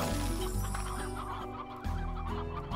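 Chickens in the Slime Rancher video game cluck repeatedly over steady background music, with short clucks scattered throughout and no voices.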